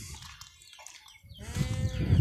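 Mixed-breed goats on a farm bleating, a faint call early on and then louder, closer bleats building toward the end, with no talking.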